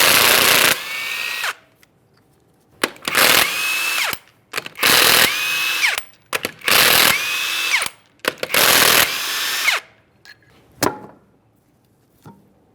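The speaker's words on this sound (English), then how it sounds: "we're going to remove all 5 of our 21mm lug nuts" Repeated bursts of a power impact tool loosening 21mm lug nuts from the rear wheel of a 2005-2010 Chrysler 300 5.7L V8, five loud whirring runs separated by short pauses and ratcheting clicks, no talking.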